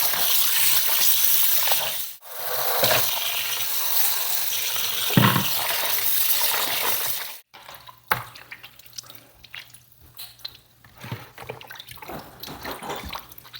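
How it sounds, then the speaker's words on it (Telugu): Raw chicken is washed under a running kitchen tap, a loud hissing gush for several seconds that breaks off into intermittent splashes and drips as the water stops and starts. "ఇక్కడ చికెన్ మంచిగా ఒక 3 టైమ్స్ నీట్గా క్లీన్ చేసేసి వాటర్తో"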